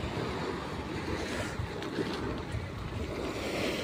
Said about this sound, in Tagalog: Ayan oh, ang lakas ng agos oh. Ang lakas ng agos papasok.